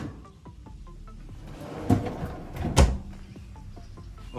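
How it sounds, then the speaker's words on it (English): Drawer-style refrigerator in the cockpit of a 2019 Tiara Yachts 39 Open yacht slides open and then shuts, two clear knocks about a second apart, close and fairly loud, no talking. "Drawer style refrigerator."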